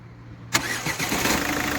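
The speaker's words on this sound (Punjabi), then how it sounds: "ਤੇ ਬੰਦ ਕਰਕੇ ਕਰਾਂਗੇ ਸਟਾਰਟ ਗੱਡੀ।" A Ford Figo car engine, in a vehicle with engine knocking and an oil leak, cranks and catches after a short silence, then settles into a steady close idle with no talking.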